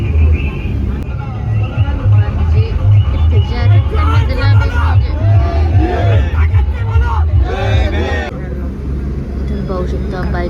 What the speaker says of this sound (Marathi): सगळी गर्दी